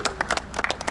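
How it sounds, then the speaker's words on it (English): A small group claps briefly, scattered sharp hand claps in an uneven, quick burst, fairly quiet and close, with no talking. "Let's give him some round of applause for that."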